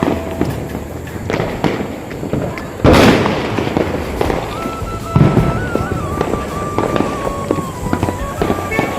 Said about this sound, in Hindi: यहाँ भी देखो पूरा चारों तरफ पूरा गूंजा था फटाखा से संगवारी हो।